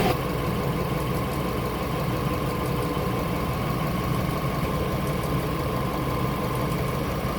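A Kia Spectra car engine idles with a steady, even hum and faint ticking during radiator work, running alone at close range with no voices.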